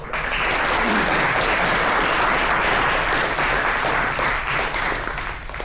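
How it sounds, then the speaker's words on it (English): Audience applause at an AI HDL awards ceremony, greeting the team that won the most secure design category; dense, steady clapping from a full room holds loud throughout and eases slightly at the end. "So round of applause again."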